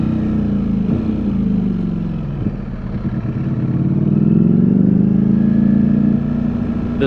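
Ducati Streetfighter V4S motorcycle engine riding through New York City streets, a loud continuous rumble that dips slightly and then swells as the bike accelerates, heard close throughout.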